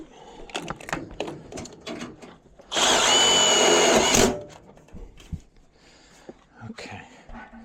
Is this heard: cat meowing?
no